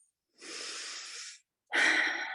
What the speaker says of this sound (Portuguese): Então, respira um pouquinho.